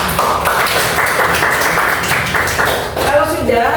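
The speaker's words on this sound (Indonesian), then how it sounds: "tepuk tangan dulu untuk kita semua" Students in a classroom give a round of applause for everyone, a dense continuous patter of clapping, loud and close, with voices rising near the end.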